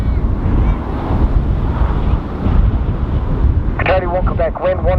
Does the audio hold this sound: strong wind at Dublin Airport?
yes